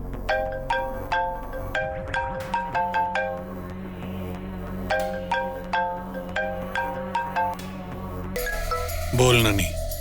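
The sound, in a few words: phone ringing unanswered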